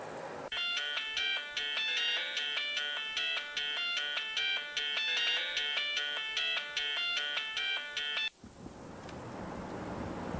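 A telephone ringing after a redial, a bright repeating electronic ringtone in even bursts for about eight seconds, then it cuts off abruptly into a faint rustle.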